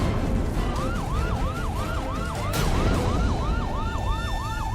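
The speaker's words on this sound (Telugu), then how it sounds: "మీ ఇద్దరికి సైరన్ శబ్దం వినిపిస్తుంది కదా, అదే సైరన్ శబ్దమే" A police siren wails in a rapid, repeating rise-and-fall pattern, loud and fairly close, over a constant rumble of traffic noise.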